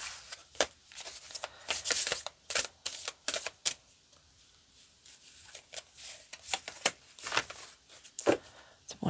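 Tarot cards being shuffled and pulled, a series of crisp papery flicks and snaps in uneven bursts, close and fairly soft, with quiet pauses between them.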